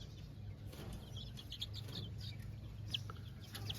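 Chickens cluck quietly alongside a dark rooster with a small straight comb, a steady low barnyard murmur with no one talking.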